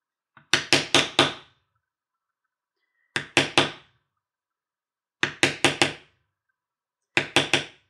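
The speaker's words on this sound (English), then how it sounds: "So I'll go ahead and bevel around the outside of it with just any beveler." A hammer striking a textured beveler tool on leather while beveling a carved feather, crisp wooden knocks in quick bursts of three or four, repeating four times with pauses between, close and alone.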